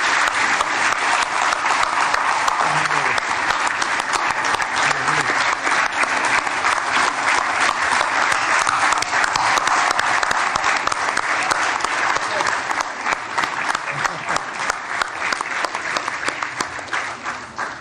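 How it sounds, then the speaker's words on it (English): Loud, sustained applause from a large audience after an enthralling classical music performance at a Foundation Day cultural event, steady dense clapping throughout with slight easing near the end. "I request all for a huge round of applause for this enthralling"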